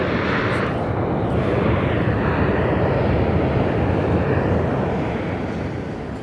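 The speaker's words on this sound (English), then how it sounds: "this is going to be Southwest Flight SWA 1941 coming in from MDW Chirac, Chicago" Southwest Airlines jet landing at Las Vegas Harry Reid International Airport, its engines a loud, broad continuous roar that holds steady and then begins to fade toward the end.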